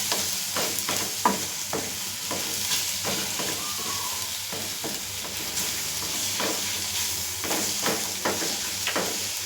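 Tomato masala for mutton gravy sizzles in a hot pan while a spoon stirs and scrapes it in repeated close strokes, a steady frying hiss underneath, no talking.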